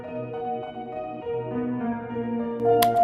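An Arturia Piano V software piano plays sustained chords through a cloner stereo-spreading effect that thins the tone and gives it a shimmering, organ-like quality. The chords shift a few times over a few seconds.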